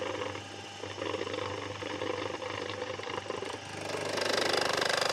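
An E-Pro airless paint sprayer pump runs steadily with a rapid mechanical chatter and hum, growing slightly louder and harsher toward the end as paint begins to flow, heard alone without talk.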